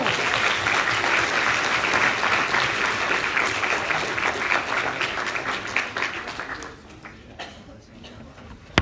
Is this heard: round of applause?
yes